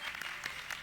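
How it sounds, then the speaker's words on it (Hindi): Brief burst of audience applause welcoming a guest on stage at a talk show in Jaipur, a dense patter of many hands clapping at moderate volume. "एक बार जोरदार तालियों से बजरंग सिंह शेखावत का स्वागत करिए"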